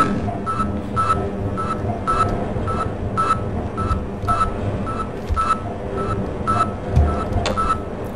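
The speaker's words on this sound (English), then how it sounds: "Over near the beeping, annoying beeping noise." Short electronic beeps from a video game repeat at a steady pace, about two per second, over a constant low rumbling background.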